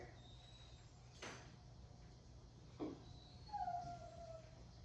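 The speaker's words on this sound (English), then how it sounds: "you can probably hear them whining" Dogs shut in a bedroom during a home yoga session give a faint, distant whine, with one rising cry near the end over quiet background noise.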